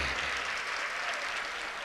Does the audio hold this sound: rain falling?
no